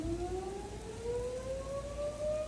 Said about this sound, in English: you hear all these sirens?